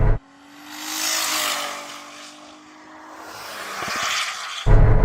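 A Ferrari SF90 accelerates hard in a drag race, its engine note rising and swelling for several seconds, fading slightly, then building again before an abrupt cut, loud and close with wind rush.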